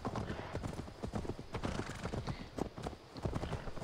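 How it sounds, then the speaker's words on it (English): Steady clip-clop of horse hooves trotting along in Assassin's Creed Valhalla, Siege of Paris DLC, a dense, uneven rhythm of hard knocks with a faint voice in the background. "My Pegasus Frankish horse."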